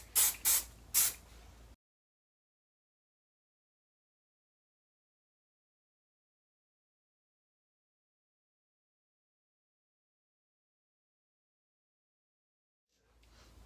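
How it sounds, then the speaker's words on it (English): Aussie Instant Freeze hairspray sprayed to set a pixie cut in three quick close bursts, followed by a long silence. "now I'm just gonna set it in place with my Aussie Instant Freeze hairspray"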